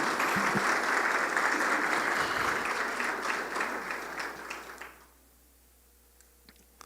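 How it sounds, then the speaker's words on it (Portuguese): A church congregation applauds steadily at a sermon on fasting, a dense wash of clapping that tapers off and stops near the end, leaving quiet room tone. "Então aplauda o Senhor"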